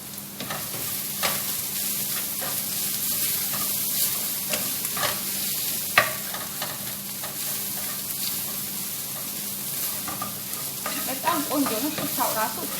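Minced garlic frying in a pan while being stirred, with a loud continuous sizzle and intermittent scraping strokes and a sharper clank around the middle, heard without talking.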